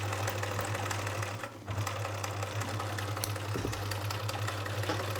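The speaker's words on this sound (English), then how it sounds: "we're going to have to put the machine on zigzag." Sewing machine running a zigzag stitch on a patchwork cushion, a steady close whirring hum with a rapid mechanical rhythm, briefly pausing once before carrying on.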